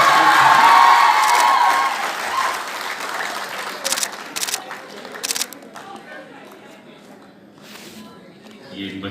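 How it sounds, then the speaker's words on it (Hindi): Students applaud and cheer at a road safety month closing ceremony and fitness fair, loud dense clapping that fades over several seconds, with a few sharp camera-like clicks and scattered voices as it thins out. "आप स्टूडेंट्स की तरफ से जोरदार तालियां होनी चाहिए।"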